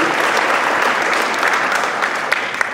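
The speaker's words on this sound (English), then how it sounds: "Go ahead and clap when you're not in the room." Dense audience clapping fills the room at an award ceremony, steady and loud throughout with a couple of sharper individual claps near the end.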